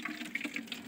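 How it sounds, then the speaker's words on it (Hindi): Water runs from a tap into a container at a camping spot, a brief, steady rushing and gurgling of flow, close and fairly soft. "तो गाइस हमने अब पानी भरने को लगा दिया है"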